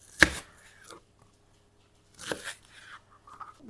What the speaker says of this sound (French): Et pour l'oignon nouveau, c'est pareil. Je vais le couper comme ça.